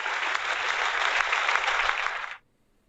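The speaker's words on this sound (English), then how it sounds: "It's the clapping sound effect." A canned applause effect: dense, steady clapping with cheering from a crowd, continuous for over two seconds, then cutting off abruptly into silence.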